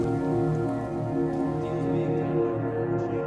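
Steady heavy rain falls across a city in the L.A. Noire video game, a dense continuous wash of drops pattering on surfaces with no break, loud and close throughout.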